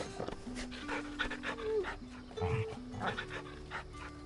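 Dog panting in the video game Final Fantasy XVI, quick breathy pants with small whimpers, close and fairly loud over game music and effects.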